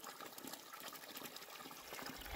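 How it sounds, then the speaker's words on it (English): Water gushes steadily from a pipe fed straight down from a mountain along the Appalachian Trail in Virginia, a close, continuous rushing splash with no talk. "Just got water from this pipe."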